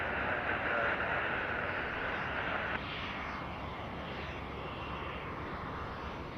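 A plane landing at Kelowna airport in BC roars with thrust reversers, a loud broad rumbling engine noise that surges at first, then drops slightly and holds steady as the aircraft slows, heard from a distance without speech.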